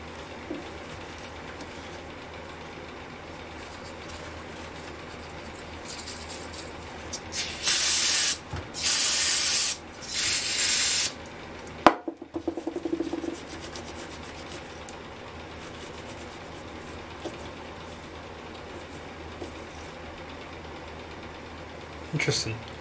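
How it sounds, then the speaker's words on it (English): Short hissing bursts of aerosol spray aimed at the carburetor of a Homelite Trim N' Edge string trimmer, four or five loud blasts in close succession, with quiet workshop background before and after. "Definitely have to put on your glasses when you spray these things."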